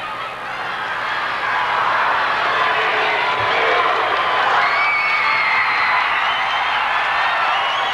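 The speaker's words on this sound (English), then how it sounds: "as you hear the Reedsburg cheering section in our immediate vicinity" Crowd cheering and shouting from a high school cheering section at the 1981 Wisconsin State Wrestling Finals, Class B 167 pounds, a loud, steady roar that swells after the first second and holds throughout.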